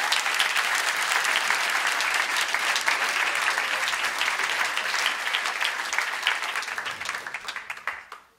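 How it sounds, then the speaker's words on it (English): A folk music conference keynote audience applauding, sustained clapping from a large crowd that holds steady and then thins and fades out at the end. "Give everybody a round of applause."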